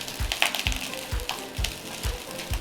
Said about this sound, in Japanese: だからこうフライパンは振らずにヘラで気長にほぐしてやってくださいということなんです